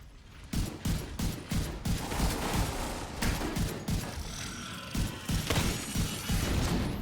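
Rifle fire in The Division 2 gameplay: a rapid run of sharp, loud shots snapping out in an uneven rhythm, with mechanical clatter between bursts and no voices.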